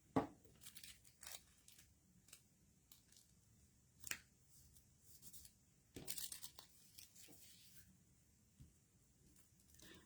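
Tissue paper for an art collage is torn in quick, crisp rips and crinkles, close and quiet, with irregular bursts separated by short pauses.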